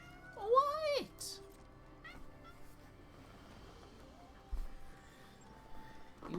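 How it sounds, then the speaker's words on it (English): A kitty gives a loud, rising-falling meow close by, followed by quieter rustling and a faint second cry, with a person talking softly in the background. "You are just the neediest little kitty man in the world"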